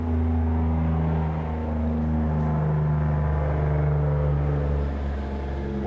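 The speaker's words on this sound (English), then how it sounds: "that's a big old earth mover." A big earth mover engine runs with a steady, heavy low rumble and droning hum, close and continuous without pause.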